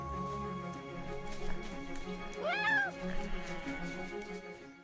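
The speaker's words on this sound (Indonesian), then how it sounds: "ia mendengar suara anak kucing" A small orphaned mountain lion cub gives a short rising-and-falling mew like a kitten, fairly clear over a steady background hum and low murmur.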